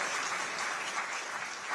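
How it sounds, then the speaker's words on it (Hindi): Audience applause fills a hall at a public address about a city's hybrid court, steady dense clapping throughout with no talk over it. "ताली बजा सकते हैं आप?"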